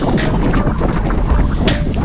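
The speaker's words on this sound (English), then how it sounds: "There was so much wind." Heavy, blustering wind buffeting the microphone during a cycling group ride, a loud continuous roar with gusty bursts and no voices.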